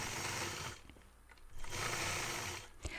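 A quilting sewing machine stitches in the ditch around a solid-fabric pumpkin, running in quiet steady bursts with a short pause between runs.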